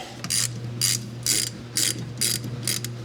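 Ratchet wrench loosening a 12 mm bolt on the rear brake of a 2016 Honda CR-V, rapid pawl clicks in six evenly spaced bursts, close and clear over a steady low hum.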